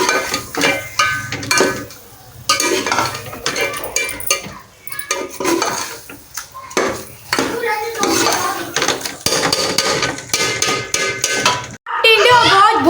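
Pieces of tinda added to browned mutton in a pot, with repeated clanking of a metal spoon against the pot, stirring and scraping, and light sizzling in bursts.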